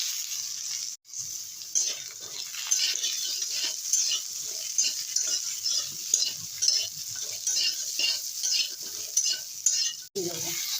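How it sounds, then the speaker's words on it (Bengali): Potato and pointed gourd stir-fried in oil with whole cumin and black cumin, a steady close sizzle with rhythmic scraping and stirring strokes throughout, briefly cut off near the start and end. "আরও 2-3 মিনিট কষিয়ে নেবো, একটু নেড়ে চেড়ে"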